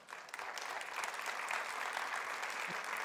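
A church congregation applauds during a Sunday Spanish-language sermon, a steady, dense wash of many hands clapping at moderate distance that holds evenly for the whole stretch.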